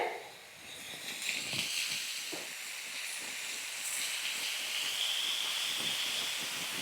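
Steady hiss of onion and spices roasting in hot oil, a broad continuous sizzle that holds evenly throughout without any voices.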